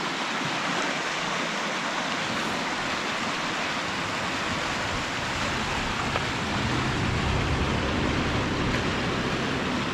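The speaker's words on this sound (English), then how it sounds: "There's the Waupaca River." The Waupaca River rushes past in a steady, loud broadband roar close by, with no break and no voices.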